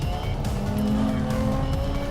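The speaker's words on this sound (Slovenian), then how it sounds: "Kdo bi se mislil, da že osnovni F-Type tole lepo rohni?" A 2017 Jaguar F-Type coupe's 3.0 V6 engine roars continuously at high revs, a dense, loud mechanical growl with no talking.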